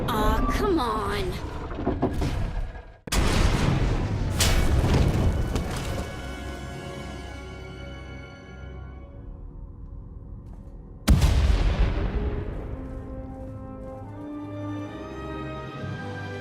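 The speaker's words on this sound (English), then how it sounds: "We heard explosions, the tunnel collapsed." Heavy booming explosions in the video game Star Wars: The Old Republic hit twice with long rumbling decays, loud and close, with some talking mixed into the noise.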